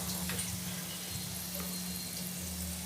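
Chicken pieces frying in hot oil until golden brown, a steady, even sizzle holding at moderate level over a low electrical hum, with no voices.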